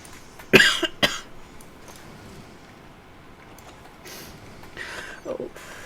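A person coughs twice in quick succession near the start, close and sharp, followed by quieter room noise and a few softer rustles and throat sounds.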